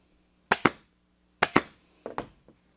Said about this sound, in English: So just push it down just a little bit and I'll put in a staple.